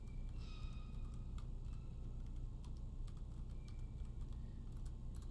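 Soft, quick keyboard typing in a video game clicks away faintly over a low, steady background hum.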